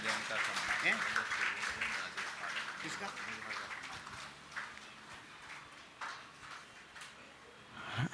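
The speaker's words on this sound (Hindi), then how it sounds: "तालियां अनवरत जारी रहना चाहिए।" An audience claps at a book event honouring two books' authors, strongest at first and then thinning to scattered claps, with someone speaking over the applause.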